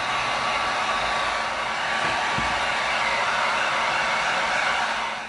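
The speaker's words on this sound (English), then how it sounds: "We're going to heat this up and we're going to curve it a little bit so it doesn't wrestle with us so much when we're attaching it." A heat gun warms a piece of EVA foam for a gladiator helmet so it can be curved, blowing a steady, close, airy roar that continues without a break and with no voices.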